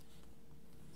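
Pen scratching soft construction lines onto paper while sketching an oval face shape, a close, quiet, continuous rasp of nib on paper.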